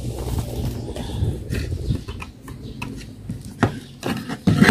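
Hands work at the casing of an emergency lamp, close irregular plastic rubs, scrapes and sharp clicks, with no talking.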